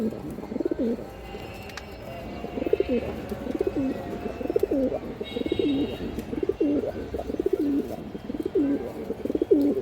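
A male silver-patterned pigeon coos in a steady repeating rhythm, each throaty rolling coo following closely on the last, near and clear over a faint background hum.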